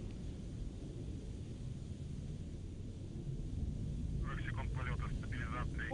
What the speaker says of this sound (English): the Soyuz delivering 102 tons of thrust from its four strapped-on boosters and single-core engine